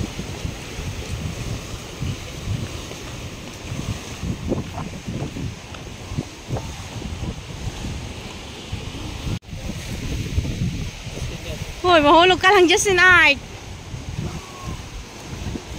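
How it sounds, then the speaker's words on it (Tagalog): Strong waves on Taal Lake roll and wash steadily beside a baywalk at dusk, with gusting wind buffeting the microphone throughout and a brief shouted voice near the end. "Lakas ang alon."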